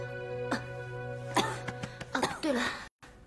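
A person clears the throat and coughs in short bursts, several harsh rasping hacks close by over a steady background hum, ending in a brief silence.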